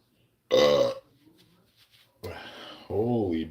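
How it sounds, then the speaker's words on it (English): A loud, deep burp from a man who has just gulped water, rumbling close to the mic for about half a second, then followed by speech. "Holy burp, hello."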